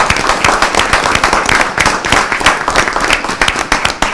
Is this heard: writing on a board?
no